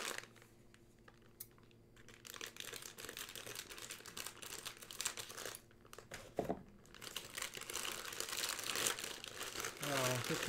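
Crinkling and rustling of a plastic Japanese snack bag, a Big Coulis Patty package of bread crouton snacks being torn open and handled up close, continuous crackly bursts for the whole stretch.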